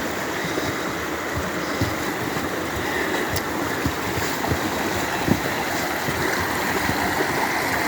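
Creek water running down through a rock channel like a natural sluice, a steady broadband rush with splashing texture that stays at an even level throughout, close by and without voices.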